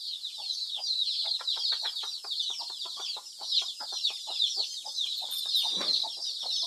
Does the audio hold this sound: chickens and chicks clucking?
yes